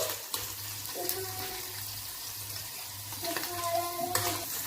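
Paneer frying in a pan while being stirred, a faint sizzle with soft scraping strokes, quiet and close, with no one talking.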